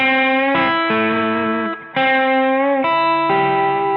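Distorted electric guitar blues lick with bent notes sliding up in pitch, bending into the third then adding the fifth and seventh, sustained and saturated with effects, playing alone without any talking.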